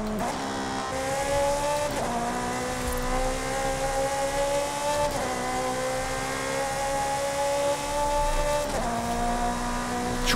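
Ferrari Portofino engine in Forza Horizon 5, revving high with rising pitch, then sharp downshifts about every three seconds, the tone dropping and climbing again, loud and close with no talk.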